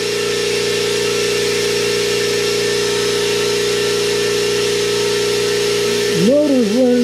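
A new Stealth 20-gallon air compressor motor runs with a steady, loud electric hum and drone close to the microphone. Near the end, a brief voice cuts in over it.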